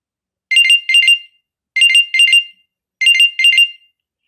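A Samsung Gear S3 smartwatch rings through its Find My Gear feature. Three evenly spaced pairs of bright electronic chirps sound close and clear, separated by silence.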